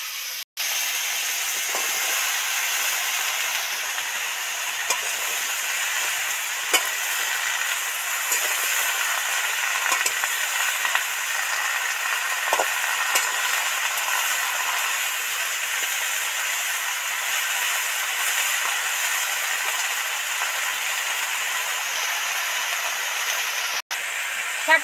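Amaranth greens and chopped vegetables fry in hot oil with a loud, steady hissing sizzle. It runs unbroken for the whole stretch, with only a few small pops and crackles and no talking.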